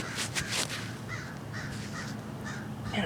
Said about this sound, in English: Man, I wish that crow would shut up.